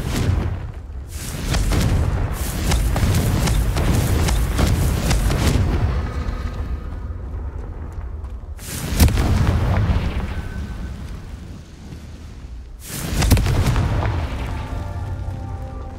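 Confringo fire spell blasts from Hogwarts Legacy, a video game: loud booming bursts at intervals over a dense rumbling, with sharp onsets near the start and two more strong blasts later.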